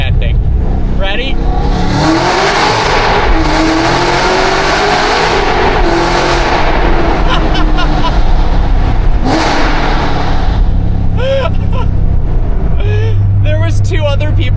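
A supercharged Cadillac CT5-V Blackwing roars loudly in a tunnel, its engine revving and swelling through downshifts with booming echoes across the whole stretch, a voice heard faintly over it.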